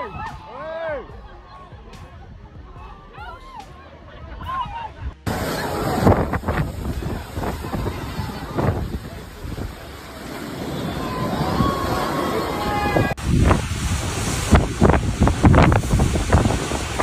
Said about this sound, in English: Huge waves crashed